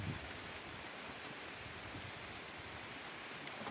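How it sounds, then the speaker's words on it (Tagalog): Steady rain falls in a constant soft hiss, even and unbroken, with no voices. "Dahil umuulan na, muna natin ihinto to."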